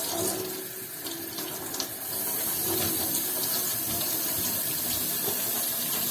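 Tap water runs steadily into a sink while a calf brain is rinsed under it, a continuous close splashing hiss that grows a little fuller after the first couple of seconds, with no voices.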